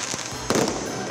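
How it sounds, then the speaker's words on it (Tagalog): Fireworks burst during a grand display closing the Magical Christmas lighting at the Iloilo Provincial Capitol grounds, a sharp loud bang landing midway through a steady crackling hiss of outdoor crowd ambience. "Ang opisyal nga pagpasiga sa Magical Christmas gintapos pinaagi sa engrande nga fireworks display."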